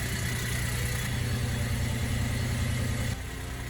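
A boat's inboard engine runs at a steady, rumbling idle right after starting, loud and close, with a constant low throb that drops slightly in level near the end.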